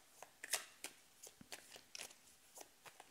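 Tarot cards shuffled by hand for a reading, heard as close, quiet, crisp riffles and taps in uneven bursts, with no talking.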